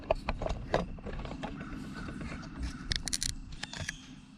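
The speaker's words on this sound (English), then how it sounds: "I'm gonna pry back on it to collapse the caliper a little bit" A pry bar levers back against a front brake caliper on a 2007 Mazda 3, making scattered metallic clicks, scrapes and creaks up close, irregular and fairly quiet.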